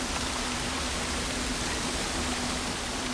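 A waterfall inside a video game cave pours out a dense, constant rushing wash of water, even and unvarying from start to finish, with no speech over it.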